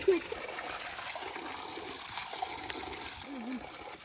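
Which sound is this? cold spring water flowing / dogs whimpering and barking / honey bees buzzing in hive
cold spring water flowing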